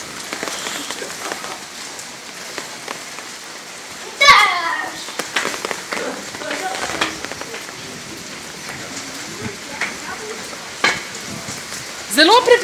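Rain in an art installation patters and hisses steadily and evenly at close range, with children's voices and chatter breaking in at several points.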